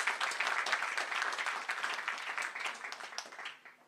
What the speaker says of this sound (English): So a big round of applause for them as well.